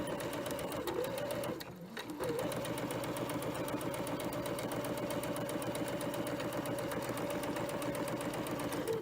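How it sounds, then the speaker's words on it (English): A sewing machine runs a continuous row of stitching down a length of fabric along a pressed-open seam, a steady, close, fast mechanical whir with one brief dip before it resumes. "going to run a row of stitching all the way down my fabric."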